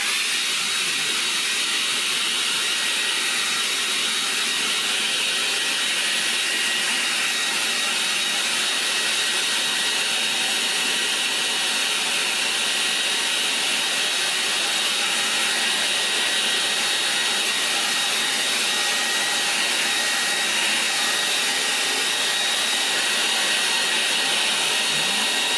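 An old hair dryer blows outdoors with a constant, loud, high-pitched whooshing hum that holds steady for the whole stretch, with no voices.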